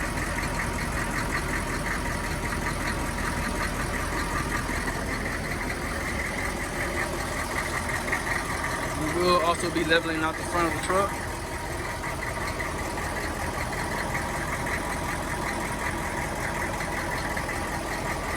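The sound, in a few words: 1994 Chevy Silverado C3500 6.5L diesel engine idling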